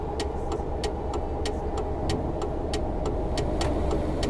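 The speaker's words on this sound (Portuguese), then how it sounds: "eu quero ver se eu consigo que vocês escutem bem o ronco do caminhão também" Steady low engine rumble of a heavy truck in Euro Truck Simulator 2, driving through a curve, continuous and fairly loud with regular faint ticking clicks recurring throughout, no talking.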